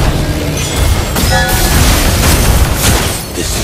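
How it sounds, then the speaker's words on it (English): A turret exploding as it is destroyed in the Mobile Legends game, a loud booming blast with rumbling debris and layered game effects, no talk. "Your team destroyed the turret!"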